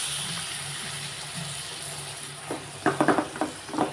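Eggplant sautéing with masala in a pan over low heat, a steady soft sizzle that ends in several quick stirring scrapes and knocks against the pan.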